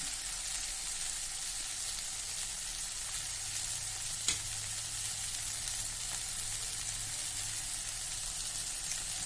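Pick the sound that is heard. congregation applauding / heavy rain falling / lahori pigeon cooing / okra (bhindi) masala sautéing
okra (bhindi) masala sautéing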